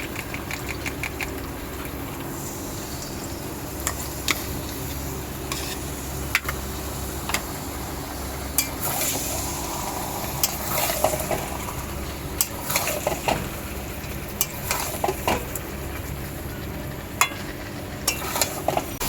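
Young jackfruit and yogurt are sautéed and stirred in a pan, a steady low sizzle and rumble with frequent short scraping clicks of the spoon throughout.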